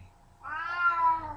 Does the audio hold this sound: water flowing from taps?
no